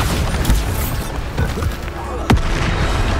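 A Bombarda spell blast erupts in Hogwarts Legacy, a sharp booming explosion near the end amid busy magical combat noise with other bursts and pops.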